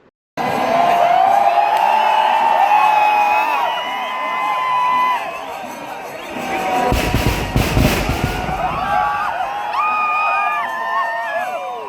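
Daytime fireworks at the Thrissur Pooram festival boom and rumble in a dense burst mid-way, set against a large, noisy crowd with whistles and cheering throughout.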